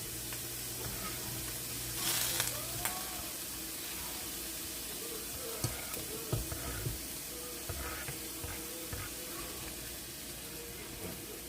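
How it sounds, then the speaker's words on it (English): Drained mushrooms, peppers and onions sweating in a hot pan, with a steady sizzle throughout and occasional clicks and scrapes of stirring. "I'm going to add in my peppers and onions so they can start sweating"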